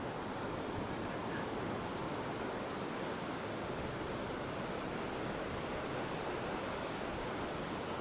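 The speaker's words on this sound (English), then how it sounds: "this is so windy" Strong wind on Ao Manao beach in Thailand roars steadily against the microphone as a constant broadband rush. It may be mixed with surf, and no one speaks.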